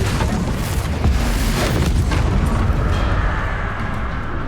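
A Confringo fire spell bursts in Hogwarts Legacy on PS5, a loud heavy boom with rumbling blast noise that fades over several seconds amid combat effects.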